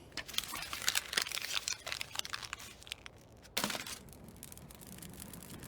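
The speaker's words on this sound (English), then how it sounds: "Now I'll just crumple this newspaper full of the devils, stick it in my chamber pot, and light a match" Newspaper crumpled by hand in a radio-drama scene, dry crinkling bursts for a few seconds with a sharp crackle near the end, close and fairly quiet, no voices.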